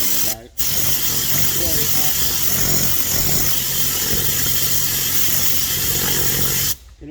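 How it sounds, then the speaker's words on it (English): A Tornador air cleaning gun blows pure air with no fluid while detailing a Daihatsu Copen, a loud continuous hiss starting abruptly and cutting off near the end with a brief pause early on; someone talks over it. "I'll use the tornador with no fluid, which I just turn the nozzle and then it's just pure air comes out"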